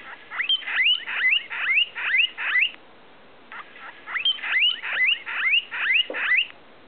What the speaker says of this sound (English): When guinea pigs are hungry, I think you know what kind of noise they make,